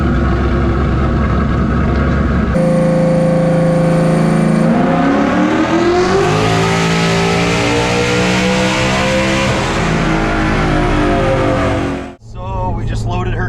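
A turbocharged drag car revs on a dyno at a dragway, idling loudly, then climbing in a long, rising engine wail near the redline before cutting off abruptly, then returning to idle.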